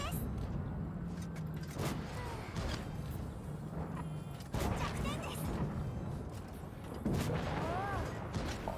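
World of Tanks Blitz tank cannon shots from a T-22 medium tank, several sharp booming blasts at irregular intervals over a steady engine rumble and game sounds, with someone talking throughout.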